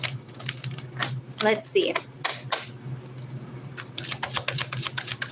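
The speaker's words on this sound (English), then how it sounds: "Oh my gosh, shuffle the cards." Tarot cards being shuffled, rapid close clicking and riffling bursts that start and stop, with someone talking briefly in between.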